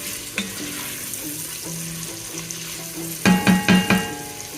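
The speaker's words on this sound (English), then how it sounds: "go ahead and add your onions, because it's going to keep cooking down" Onions soften in a pot with bacon, giving a low steady sizzle with faint stirring, then a short run of louder bumps and clatters near the end.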